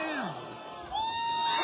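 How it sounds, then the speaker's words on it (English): Crowd cheering and whooping at a MetalAF armored fighting event as a fighter lands knees against the cage, a brief swell of voices with rising shouts. "The crowd is loving it"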